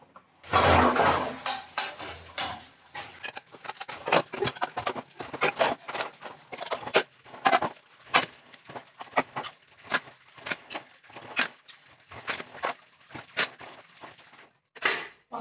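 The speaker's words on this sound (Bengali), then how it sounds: "এখন ভাত খেয়ে চলে এলাম বাসন ধুতে রান্নাঘরে, এখন বাসন ধোবো।" Dishes being washed by hand in a home kitchen after a rice meal: a long run of sharp clinks and clatters of plates and utensils knocking together, irregular and close, with running water hiss early on.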